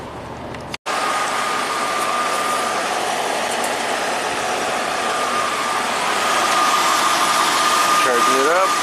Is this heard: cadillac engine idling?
yes